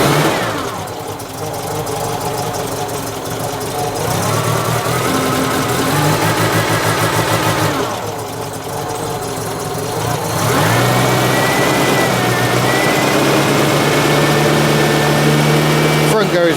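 A BMW GSA motorcycle engine idles on choke, a steady close mechanical chug with uneven rhythm and brief rises in revs, running continuously while a person talks over it.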